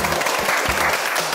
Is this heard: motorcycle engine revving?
no